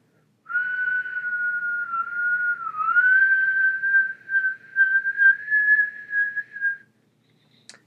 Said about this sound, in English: And that was a higher whistle.